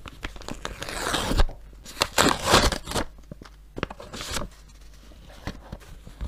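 A crinkly paper surprise bag is torn open and crumpled close by, with sharp rustling and tearing bursts at the start, then intermittent crackles and handling noises.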